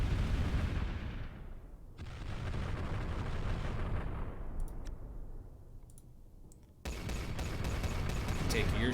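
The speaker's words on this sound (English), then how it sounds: "I'm gonna do an EMP barrage over..." An EMP barrage attack roars in the video game Final Theory, a loud continuous rumbling bombardment with clicking, a brief drop in intensity, then a sudden fresh surge of rapid impacts.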